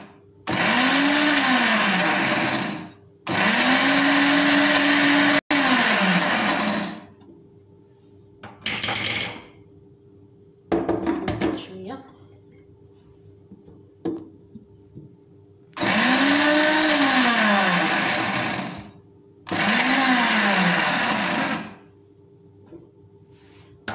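A blender pulses herb mayonnaise sauce with coriander and parsley in loud, whirring bursts of a few seconds each, two pairs separated by quieter clatter and handling noises.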